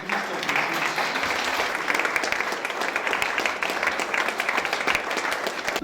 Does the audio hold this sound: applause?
yes